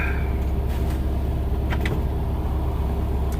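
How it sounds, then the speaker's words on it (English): A car passes on Route 66 near the Lake Overholser Bridge, a steady mid-distance engine rumble and tire hiss, with no talking. "I'll wait till this car goes by."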